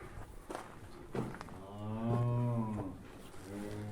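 A cow on a village farmstead, kept with suckling calves, lets out one long, loud, drawn-out moo close by, framed by quieter rustling and shuffling before and after.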